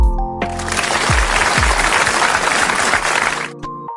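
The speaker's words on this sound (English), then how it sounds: "Give yourself a big clap" Applause sound effect in a children's alphabet lesson: a dense burst of clapping from a crowd, loud and steady for about three seconds before cutting off, with a few low thumps near the start.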